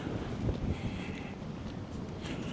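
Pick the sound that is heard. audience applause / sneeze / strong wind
strong wind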